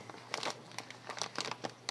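Thin plastic bag for transporting aquarium fish crinkles and rustles as it is wrapped around, a series of close, crisp bursts with short gaps and no talking.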